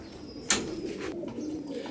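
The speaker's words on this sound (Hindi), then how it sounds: "ये नर है जी, कलर तो आपने इसका देख लिया। इसको हम इंडिया वाला कबूतर कहते हैं" A male Indian pigeon, a lightweight breed, gives a short coo amid a soft background hum, a single brief call near the start followed by low, quiet murmuring.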